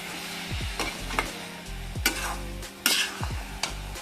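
Grated fresh coconut filling with cardamom cooks in a pan while a spoon stirs it in repeated rhythmic scrapes and knocks, over a low bubbling sizzle.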